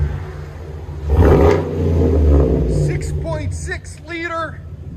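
A Chevy/GMC 6.6L V8 fitted with a Black Widow exhaust rumbles nearby, then revs up with a louder surge before settling, while voices talk excitedly over the engine near the end.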